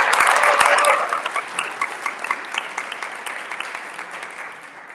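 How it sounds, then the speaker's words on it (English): Applause for staff at a Pride leadership meeting: a dense burst of clapping that thins after the first second into scattered, rhythmic claps from a modest group, steady and fairly close. "I just want to give a round of applause to the staff for picking up the additional pieces of this job."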